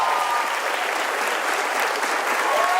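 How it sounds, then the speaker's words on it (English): A rowdy audience in an auditorium applauds in a loud, dense, steady wash of clapping that runs unbroken for the whole stretch, with no voices above it. "Give yourselves a round of applause."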